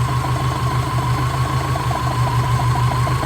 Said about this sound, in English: I wonder which cylinder is misfiring.